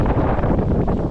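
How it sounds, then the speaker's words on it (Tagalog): Strong, steady wind buffets the microphone at a beach campsite beneath a large tree near the sea, a continuous low roar with no break and no voices. "Malakas yung hangin, malamig."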